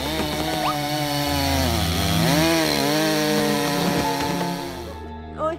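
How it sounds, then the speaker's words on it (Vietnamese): A saw cutting trees in an animated cartoon, a steady loud buzzing drone with shifting whine that runs nearly continuously and cuts off near the end. "Ôi, người ta đang cưa cây kìa."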